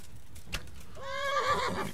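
A horse in the video game Kingdom Come: Deliverance neighs once after being struck during a bandit camp fight, a clear whinny rising and wavering after a short pause with a faint thump before it.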